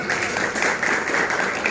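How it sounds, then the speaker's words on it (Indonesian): A mosque audience at an Isra' Mi'raj gathering claps together in a short, dense burst of applause that holds steady throughout. "Tepuk tangan dulu."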